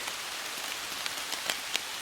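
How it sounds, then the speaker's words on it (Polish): Rain falls steadily through a pine forest, a dense close hiss with scattered louder drop impacts landing near the listener, no voices. "i uciekam przed deszczem, żeby nie zamoczyć aparatu"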